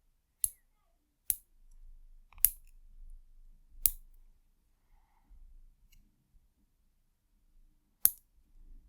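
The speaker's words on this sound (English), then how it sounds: "so I'm going to trim them down to match this one" A fingernail is trimmed during an autumn manicure in a quiet room, with five sharp, close clipping snaps spaced irregularly and soft handling noises and breaths between them.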